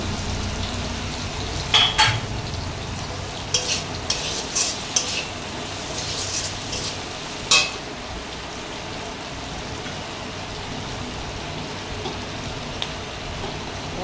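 Fish curry with slit green chillies being stirred in a pan, a steady low sizzle under scattered scrapes and clinks of a spoon against the metal, close and alone with no voices.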